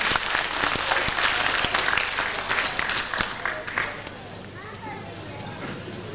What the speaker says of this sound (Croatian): aplauz za Branku